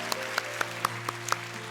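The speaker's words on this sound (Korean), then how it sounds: "한 번 더 큰 박수로 정말 축복합니다." Church congregation applauding during a Thursday worship service, a steady wash of clapping with scattered sharper claps standing out, fairly close and without voices.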